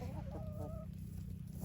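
Backyard chickens give a quick run of soft, close clucks that fade into a low background hum within about a second.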